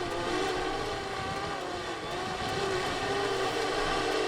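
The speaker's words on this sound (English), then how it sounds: "just bringing the drone down slowly" A camera drone used for beach fishing hovers close by as it is lowered for a hand catch, its propellers giving a steady, even whine and buzz that holds at a constant level with no voices.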